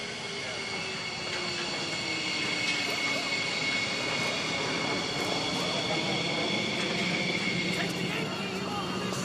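Fighter jet engine roaring steadily at low level, a loud continuous broadband rumble and whine with a sustained high-pitched tone, holding constant for the whole stretch.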